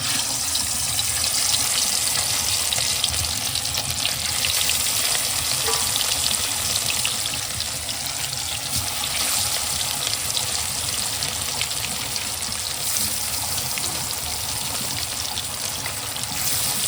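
Turmeric-coated katla fish pieces fry in hot oil in a kadai, a loud, dense, continuous sizzle and crackle right up close that holds steady throughout, slightly easing in the second half, with no speech.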